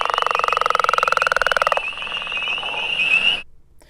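A leopard frog calls close by with a rapid pulsing snore-like croak that lasts nearly two seconds, then gives way to fainter chorus and outdoor background before ending abruptly.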